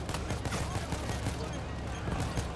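Dense, rapid gunfire from the heist shooter game Payday 3, a continuous close volley of shots running through the whole moment with voices faintly beneath.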